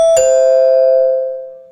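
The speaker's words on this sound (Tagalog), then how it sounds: "may nag-doorbell na nga sa bahay ko." A single loud doorbell chime at a house: a bright two-tone ding-dong whose second note rings out clearly and slowly fades, alone with no voices.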